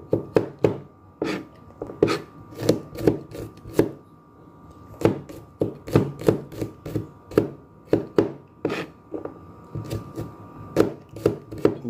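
A knife chopping garlic on a board in a home kitchen, steady quick taps in irregular clusters with short pauses, close and crisp, no talk.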